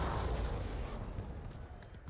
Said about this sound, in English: let's see what these guns can do on a bridge